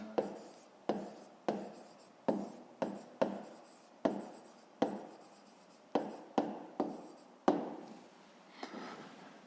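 A pen writes an answer by hand on paper in a fifth-grade maths exercise, giving a series of quick scratchy strokes, about fifteen short bursts in an uneven rhythm, close and quiet.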